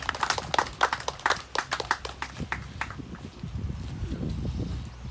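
Hands clap in applause at an outdoor memorial ceremony for workers killed in industrial accidents, sharp separate claps in a quick uneven rhythm that thin out and fade into a low murmur of crowd and background noise.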